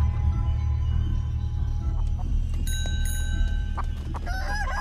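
Chickens clucking and squawking in the video game Chicken Feet, with a steady, loud bed of game music and tones throughout and sharper bird-like calls rising near the end.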